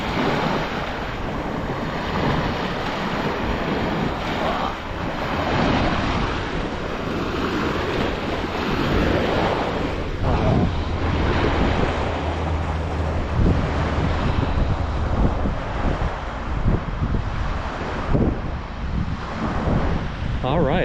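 Sea waves breaking and washing onto Iskele Beach in Northern Cyprus, a loud continuous roar of surf with heavy wind buffeting the microphone and a voice talking intermittently over it.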